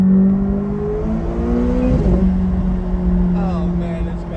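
Car engine accelerating while driving, a loud, close drone whose pitch climbs, dips at a gear change around the middle, then settles into a steadier hum.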